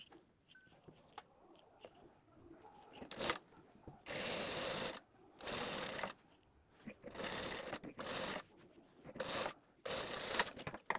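A sewing machine stitches a fabric seam right at the edge, running in several loud bursts of rapid whirring separated by short pauses with quiet handling of cloth between runs.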